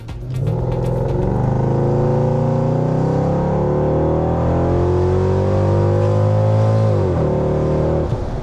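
A Mercedes-Benz CLS 55 AMG engine roars loudly and continuously from inside the car, its pitch climbing steadily through the gears, with a brief dip around a shift near the end.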